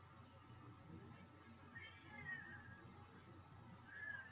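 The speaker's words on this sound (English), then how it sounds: "I hear my cat crying." A house cat cries indoors with two faint, drawn-out meows, one midway through and another near the end, over a low background hum.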